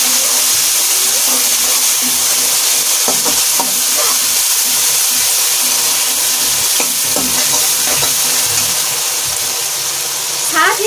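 Onions and tomatoes fry in a pan for vegetable pulao, giving a steady loud sizzle with occasional stirring scrapes throughout, and a voice speaks over it.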